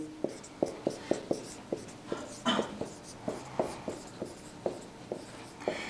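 Chalk or marker taps and strokes on a board during a graduate probability lecture, a steady series of sharp knocks about every half second, fairly close in a quiet room.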